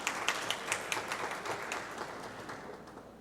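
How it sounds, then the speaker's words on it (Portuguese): Brief, fairly faint applause from an audience in a city council chamber, a scatter of claps at first that thins and fades toward the end. "Vamos dar uma salva de palmas para as mulheres nessa casa."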